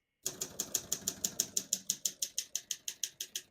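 Someone types steadily on a 1955 Olympia SM3 portable typewriter, with about fifteen crisp, evenly spaced key strikes close up and nothing else in the background.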